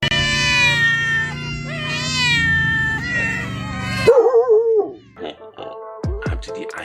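Several cats meow one after another, loud drawn-out calls overlapping at first, then shorter, sparser meows near the end.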